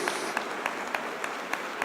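A church congregation applauds after a scripture reading. The short burst is full and even, with faint, evenly spaced sharper claps running through it.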